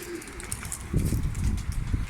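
Pigeons in a loft give a few low cooing calls amid light shuffling and rustling, fairly close and quiet, with no one speaking.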